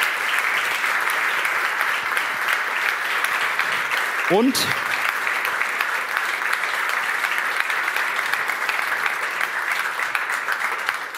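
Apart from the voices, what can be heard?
audience applause at award ceremony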